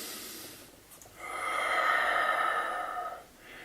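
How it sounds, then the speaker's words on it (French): A slow breath during a home fitness workout, a soft airy rush that swells for about two seconds and then fades, close and alone with no talking. "et on expire par la bouche"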